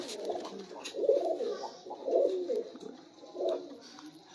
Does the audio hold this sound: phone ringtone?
no